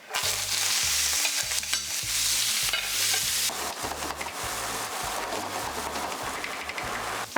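Vegetables frying in leftover beef fat in a pan, a bright, constant sizzle broken by rhythmic stirring strokes, close up with no talk.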